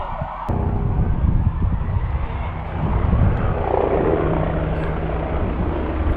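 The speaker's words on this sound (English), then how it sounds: "now there's a helicopter coming over. A police one by the looks of things." A police helicopter's rotor thumps and whines steadily overhead, loud and continuous, with a faint siren-like tone mixed in.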